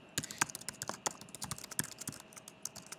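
Rapid, uneven keystrokes on a computer keyboard during a coding screencast, clicking close and fairly loud in quick bursts over about three seconds with no talking.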